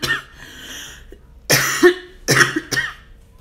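Several harsh coughs from a person with a persistent cough made worse by lying down, three loud bursts after a quiet stretch, close to the microphone with no talking.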